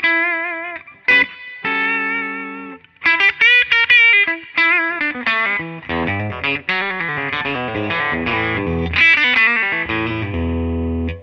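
A Gibson 2014 SG Standard electric guitar played clean through its bridge humbucker, with single ringing notes and chord stabs that thicken into busier strummed passages, loud and alone with no talking.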